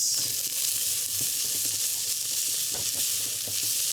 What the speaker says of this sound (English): The meat is getting a little brown on the bottom, so we're gonna cool things off just by stirring it around.